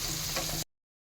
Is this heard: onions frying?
yes